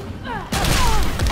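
A sudden loud explosion in the fighting game Injustice: Gods Among Us erupts after a brief moment of quieter sound, with a rumbling boom that lingers and rolls on.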